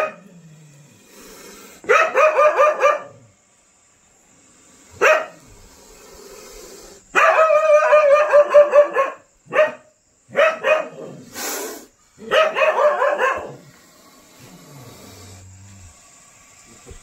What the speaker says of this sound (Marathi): कुत्री भुकलती म्हणून आम्ही